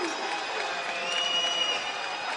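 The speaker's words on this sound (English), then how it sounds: "Crowd doesn't like it." A basketball arena crowd at a college game between New Mexico State and Middle Tennessee State reacts to a goaltending call with a sustained, fairly loud roar and murmur of disapproval that fills the space evenly.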